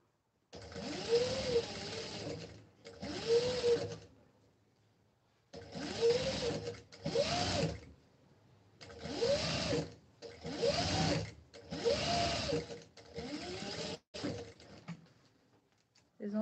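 A sewing machine stitches a silk and cotton face mask in about eight separate bursts, each a loud, close whirring run with a brief pause between them.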